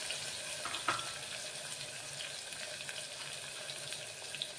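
An onion dropped into a hot pan for bottle-gourd khichdi fries with a steady, close sizzle and hiss that runs the whole time, with a few soft clinks and no talking.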